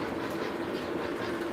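Model trains run on an O-scale layout with a soft, steady rolling rumble and faint rhythmic clatter of wheels on track, fairly quiet and continuous, no talking.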